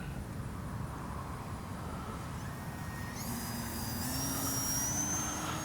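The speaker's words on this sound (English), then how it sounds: "let's do another low pass like that again" A Durafly FG-1 Corsair RC warbird makes a low pass, its steady electric motor drone rising in pitch and loudness as it nears, with a thin high whine sweeping upward over a constant outdoor wind rumble.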